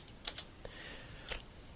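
Sparse keystrokes on a computer keyboard while data is entered at a prompt: a few quick taps, a pause, then another short burst, close and fairly quiet.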